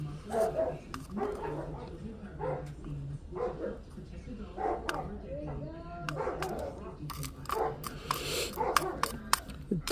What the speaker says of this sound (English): Got a new puppy we're trying to introduce, and puppy be messing with all the other dogs.